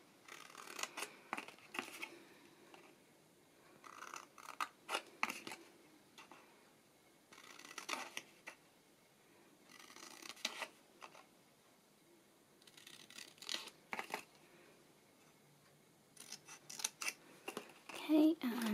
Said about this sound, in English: we're just going to snip up like that all the way along